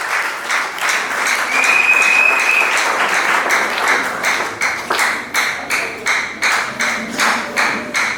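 Wedding guests in a reception hall applaud steadily, a close, full round of hand clapping that later breaks into rhythmic, evenly spaced claps keeping time together, with no talk over it.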